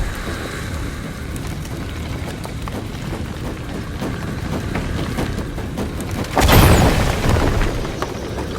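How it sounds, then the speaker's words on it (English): A deep, booming explosion in Shadow of the Tomb Raider erupts loud and close about two-thirds through, its broad rumble spreading out over a steady background hum and wind-like noise. "Another explosion would raise the platform."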